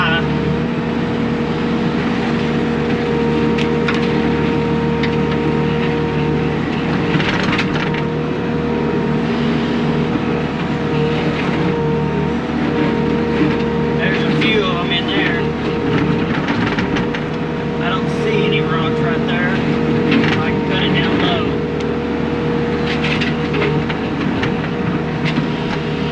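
A track skid loader running a Blue Diamond brush mower shreds brush, with a loud, continuous engine and cutter drone that holds steady throughout and has no voices over it.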